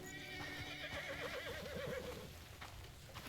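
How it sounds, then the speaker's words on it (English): A horse in Crimson Desert lets out a long, wavering whinny, fairly close and clear, with hoof clip-clops and ambient game sound around it. "Oh, you're such a cute horsey."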